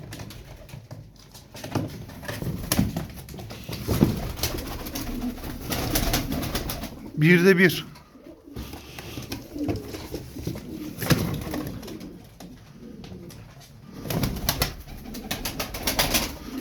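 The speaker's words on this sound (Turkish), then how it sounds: "Bu şimdi çıkartacağım kuşların hepsi oyunlu." Tumbler pigeons are let loose, with soft cooing and bursts of flapping wings close by, under intermittent talk from a man.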